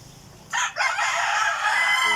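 A rooster crows loud and close, one drawn-out cock-a-doodle-doo among pet backyard chickens on a small farm.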